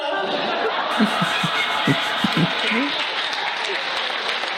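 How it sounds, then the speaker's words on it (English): Applause and scattered chuckles from a comedy show audience, a steady wash of clapping with bursts of laughter mixed in, fairly loud and close throughout. "Nice applause break."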